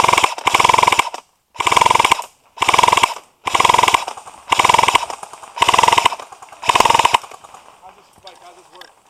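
Airsoft guns fire during an outdoor airsoft game in seven rapid full-auto bursts, each about a second long, separated by short pauses. The rattling is loud and close, then fades to faint clicks at the end.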